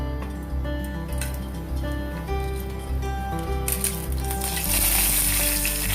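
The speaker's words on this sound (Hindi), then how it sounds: "तो इस टाइम पे मैंने जो साबुत गरम मसाला लिया था वो सारे साबुत गरम मसाले को मैं डाल दूंगा" Whole garam masala spices frying in hot oil for paneer malai kofta, a steady close sizzle that swells into a louder, brighter hiss partway through, with no voices.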